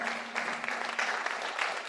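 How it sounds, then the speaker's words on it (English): An audience at a lecture on market research claps in a brief, dense burst of applause, moderately loud and fairly close. "Let's give a round of applause to the panel."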